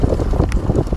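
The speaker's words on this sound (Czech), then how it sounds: "on ten vítr je strašně silný" Strong wind buffets the microphone at a model airplane field where a quarter-scale Sopwith Pup biplane flies, producing loud, gusty rumbling roars that surge and ebb in uneven bursts.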